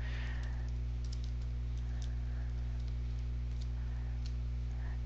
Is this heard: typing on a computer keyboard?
yes